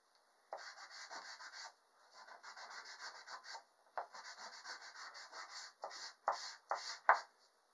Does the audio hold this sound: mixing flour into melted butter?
no